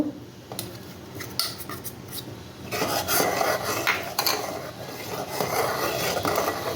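Powdered milk is stirred little by little into a mixture in a pot for taaler bhapa pithe, a steady scraping and rubbing of a spoon against the vessel that grows louder and busier partway through, with no talking.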